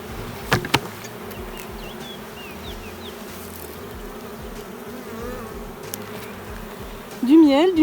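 Honeybees buzz steadily in a hive that may have lost its queen, a continuous close hum with rising and falling tones, ending in a louder swell of buzzing near the end.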